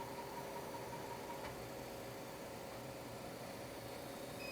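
A laser engraver etching glass in a makerspace runs alongside an air compressor and a BOFA fume filter, giving a steady, fairly quiet mechanical hum and hiss with faint tonal whine and no speech.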